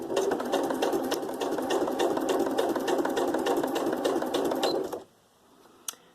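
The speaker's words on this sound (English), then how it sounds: "we'll just start off with a long straight stitch" A sewing machine runs a long straight stitch through card for a junk-journal tag, a steady, continuous mechanical whirr for about five seconds before stopping abruptly, followed by near silence and a single faint click.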